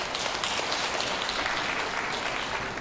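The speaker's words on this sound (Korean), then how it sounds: "여러분 큰 박수 부탁드립니다." Audience applause fills an outdoor concert stage area at Marronnier Park in Daehangno, a steady dense wash of clapping from a crowd, loud and continuous throughout with no talking.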